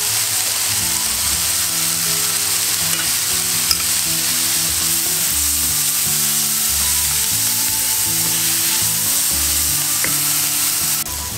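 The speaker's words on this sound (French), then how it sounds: "On ajoute l'ail qu'on presse. Vous voyez quand les courgettes commencent légèrement à dorer." Sliced courgettes and pressed garlic fry in a pan with a loud, constant sizzle and occasional stirring, while a rhythmic music track plays underneath.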